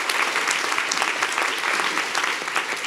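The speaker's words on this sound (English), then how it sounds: "Can we give a round of applause?" A dense, loud round of applause from an audience at a live event, steady clapping with no pauses from start to finish.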